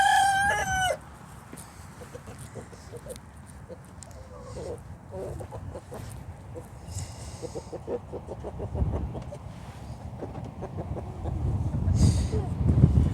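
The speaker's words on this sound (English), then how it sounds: "That's the rooster, the one and only." A rooster crows once near the start, loud and close, followed by scattered clucks from chickens in a windy backyard garden, with a person talking briefly.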